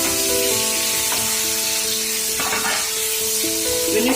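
Onions and tomatoes fry in a pan after garlic, giving a steady close sizzle with faint stirring scrapes, no voices, and some tonal background hum running throughout.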